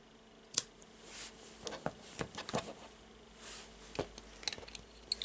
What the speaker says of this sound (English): now I will take the scissors and cut those cords